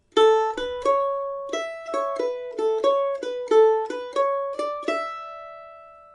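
A single mandolin plays the first phrase of the Hesleyside Reel, a clear run of bright plucked notes in brisk reel rhythm, close and alone, the final note ringing out.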